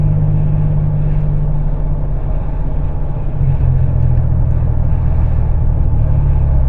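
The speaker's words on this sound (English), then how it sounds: "Car picks up so quickly. It's a much better car to operate." A car driving on an Atlanta road, with a loud, steady engine and road rumble that stays even throughout, a slight swell in the low drone about midway, and no voices.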